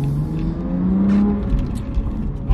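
A BMW F80 M3 with a manual gearbox idles while warming up, a steady low engine drone that swells slightly as if lightly revved, heard close with no talking.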